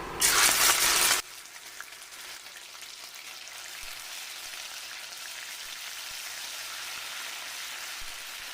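Ginger garlic paste with cloves and cardamom frying in oil, a loud burst of sizzling at first that drops to a steady, softer hiss of frying continuing to the end, no talking.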